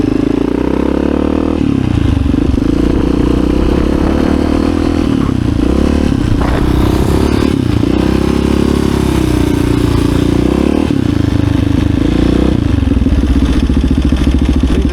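A 1986 HRC Honda XR628R motorcycle with dual carburetors drones steadily and loudly while being ridden, its engine note rising and falling slightly as the revs shift, with some clatter and no talking.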